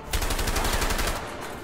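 Rapid automatic gunfire rattles continuously in the video game A Way Out, a dense, loud burst of shots lasting under two seconds.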